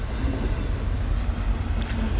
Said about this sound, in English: waiting for this train to go by